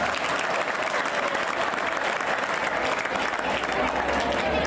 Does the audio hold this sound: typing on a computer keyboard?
no